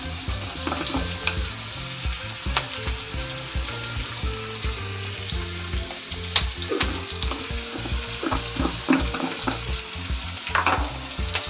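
Onion and tomato curry with mustard seeds, turmeric and spices sizzles steadily in a pan, with frequent scraping stirs and clinks of a spoon over a constant frying hiss; no voices.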